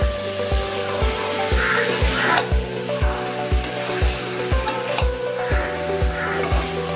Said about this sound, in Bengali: এবার আমি সয়াবিনগুলো দিয়ে দিচ্ছি